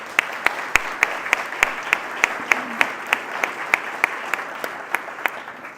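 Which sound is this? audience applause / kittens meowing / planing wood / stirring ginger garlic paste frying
audience applause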